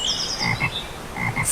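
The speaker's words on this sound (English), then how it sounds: "Frog," Frog croaking in a clean, close recording: a series of short rhythmic croaks in two bursts, with no talking.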